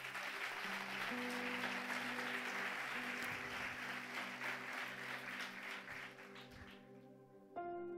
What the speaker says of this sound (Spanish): ¿Cuántos pueden dar un aplauso fuerte a Él?